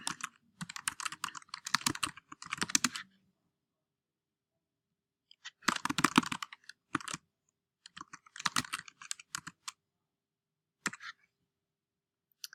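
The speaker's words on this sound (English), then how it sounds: "you type in your action plan based on your brainstorm sheet" Keys clatter on a computer keyboard in quick bursts of typing, separated by silent pauses. The sound is close and fairly quiet, with no talking.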